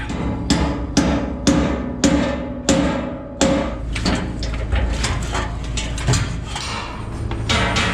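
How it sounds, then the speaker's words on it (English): Sharp metallic hammer blows on a chisel ring out one after another at a steady pace against the frame of a 1935 Dodge rat rod, then continue as quicker, lighter clinks of striking metal. "I gotta go get me a chisel and a hammer and see if we can't bust that thing up"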